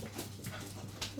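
An eight-week-old English Springer Spaniel puppy whimpers indoors, a few faint, brief high whines and soft panting breaths alone over a low background hum.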